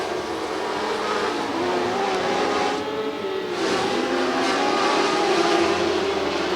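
Dwarf race cars roaring around a dirt track, a loud continuous engine drone that swells and fades as cars pass side by side, with no clear talking over it.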